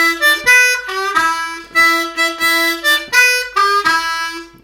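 Blues harmonica playing a short lick, played twice in quick succession as a series of clear, bending notes, loud and close with no talking.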